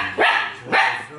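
Two nearby barks from a small dog, each a quick rising yelp, about half a second apart, with no talking over them.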